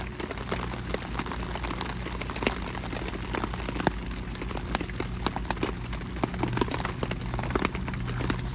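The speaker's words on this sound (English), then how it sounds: "Shit, it's gonna rain. Good thing I got the tarp, right? It's raining." Rain patters on a tarp over an outdoor cooking spot, a dense steady hiss scattered with sharp individual drop taps, close and continuous with no voices.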